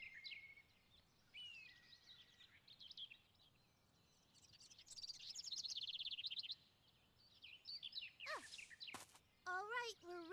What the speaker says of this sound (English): That bird is still there.